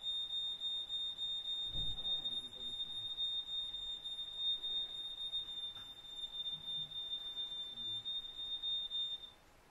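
A home smoke alarm beeps steadily and repeatedly at a high pitch throughout, with faint room noise and soft thuds underneath.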